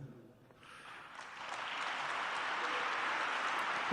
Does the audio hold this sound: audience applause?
yes